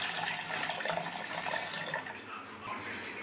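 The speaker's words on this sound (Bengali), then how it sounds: "এখন আমি জল দিয়ে দিব। এখানে দিয়ে দিচ্ছি নর্মাল জল।" Plain water splashing from a container into a mango sherbet mixture of sugar and salt, a steady watery pour that fades near the end.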